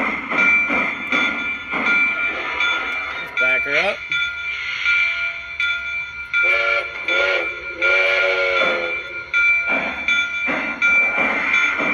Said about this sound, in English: it does have the whistle steam effect, so there is smoke coming out of the whistle.